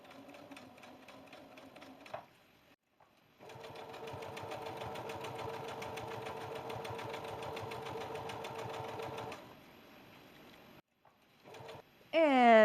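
Sewing machine running a straight stitch to hem a pair of shorts, a short burst, then a long steady whirring run of about six seconds, followed by brief quieter bits near the end.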